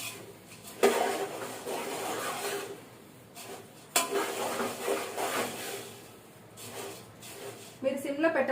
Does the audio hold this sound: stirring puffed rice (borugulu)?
yes